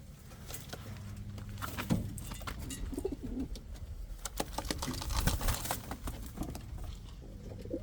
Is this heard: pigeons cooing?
yes